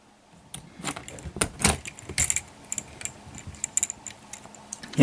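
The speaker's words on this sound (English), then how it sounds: "move the leg up one click, or you can move it down a click" A 2009 Skopio XV 1 tripod leg clicked up and down in a series of sharp, irregular plastic and metal clicks and rattles close by.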